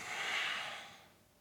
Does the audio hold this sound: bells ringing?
no